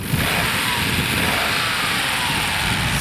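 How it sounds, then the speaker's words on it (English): A 1990 Nissan Skyline GT-R engine idling with the hood open, a loud, steady mechanical drone with a constant whir and hiss that holds even throughout. "They just are noisy engines."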